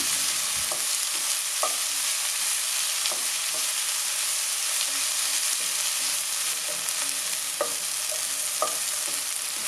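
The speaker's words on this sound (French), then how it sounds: "on verse les petits pois et les cuire pendant 1 minute. Il faut les mélanger de temps en temps aussi." Green peas sizzle steadily in a hot pan for egg fried rice with soy sauce, a constant hiss broken by sharp scrapes and clicks of a utensil stirring them at irregular intervals.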